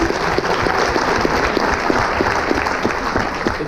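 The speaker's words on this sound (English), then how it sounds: "Give her a round of applause, please." An audience bursts into a round of applause for a presenter, many hands clapping in a dense, steady patter that holds evenly from start to finish.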